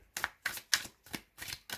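Six quick papery riffles of tarot cards being shuffled in an even rhythm, close and fairly soft.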